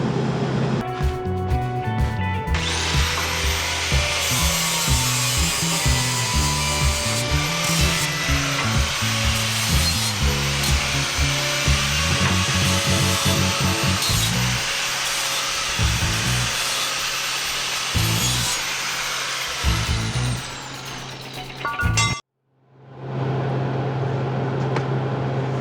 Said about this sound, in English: So I'm going to cut this bottom tang off just a little bit.